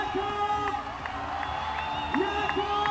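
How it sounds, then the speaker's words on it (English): A spectator crowd at a lead climbing World Cup final in Imst cheers and whoops in a sustained din, with a few rising shouts and one louder swell near the end while a commentator talks over it. "Crowd really enjoying this."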